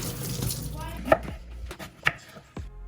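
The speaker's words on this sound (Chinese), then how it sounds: "冬瓜切块，然后切片" A knife chops peeled winter melon into chunks on a board, giving a few sharp, distinct thunks spaced about a second apart over a soft background hum.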